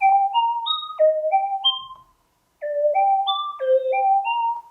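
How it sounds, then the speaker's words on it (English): A bright, bell-like Serum synth plays the high line of a melody from a song, a music-box style sequence of stepping notes that pauses briefly and repeats; clear and alone with no voices. "Then you have the high part of the melody,"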